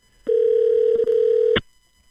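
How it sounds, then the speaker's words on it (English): A phone tone sounds at one steady pitch for just over a second, loud and close, then cuts off abruptly. "What's your ringtone?"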